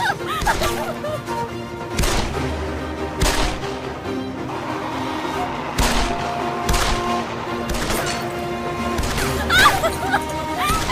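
Scattered gunshots crack out at irregular intervals, some in quick pairs, while agitated voices shout over them.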